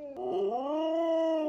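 A Minecraft Bedrock dog lets out a single drawn-out, whining howl, loud and close, lasting just over a second on its own.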